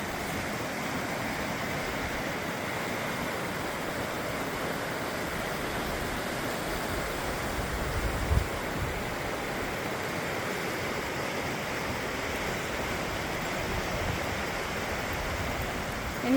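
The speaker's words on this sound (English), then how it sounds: "The water running over the trees and over the deadfalls" A creek rushing over fallen trees roars steadily and continuously, a broad, even wash of flowing water noise with no pauses.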